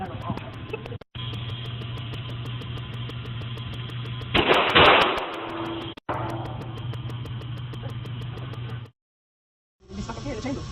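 Gunshots at an indoor gun range: one loud, broad blast near the middle stands out over steady ventilation hum and engine-like drone, with sharp brief cracks at other moments.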